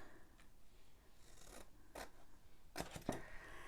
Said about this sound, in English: Just cut a smidge off so it has a better fold.